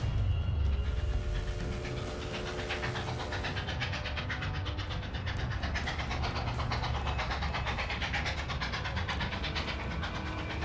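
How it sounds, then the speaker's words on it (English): A packed Civil War-era train speeds south, a continuous loud rumbling roar with rapid rhythmic clatter of wheels on rails throughout, steady and close with no speech. "A packed train speeds on its way south"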